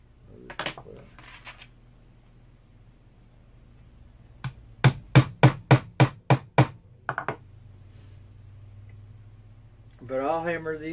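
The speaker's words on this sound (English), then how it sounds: "I'll hammer these out, the rest of these out real quick" A hammer strikes metal while a fender bib is worked, about eight sharp, evenly spaced blows in a quick burst, with a few isolated knocks and brief talk before and after.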